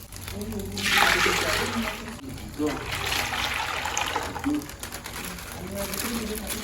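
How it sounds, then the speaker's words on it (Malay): Coconut milk is poured for lemang, a steady liquid trickling and splashing into a container close by, while people talk over it. "Lepas tu baru kita tuang santan."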